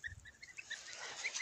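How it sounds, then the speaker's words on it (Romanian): A goose and gander give short nasal honks in quick uneven succession, faint and somewhat distant in an outdoor setting. "Uitați, aici o gâscă și un gâscan,"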